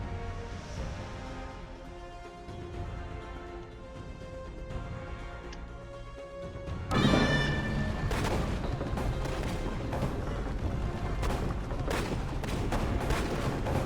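Booming cannon fire in the video game Assassin's Creed Revelations, set in Istanbul, a dense barrage of loud blasts that grows heavier and more continuous halfway through, with music underneath.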